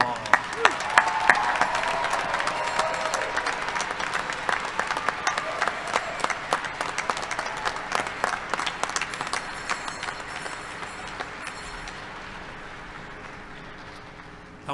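A large audience at a university fall commencement ceremony claps in a sustained round of applause for the graduates, loud and dense at first, then gradually thinning and fading toward the end.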